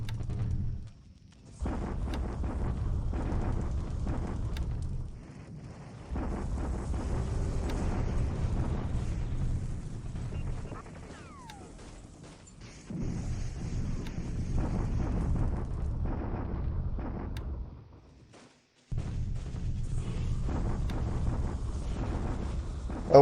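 Deep rumbling explosions from a naval bombardment of Wenchow in War in the Pacific: Admiral Edition roll in long, heavy bursts separated by brief gaps of near silence, with no voices.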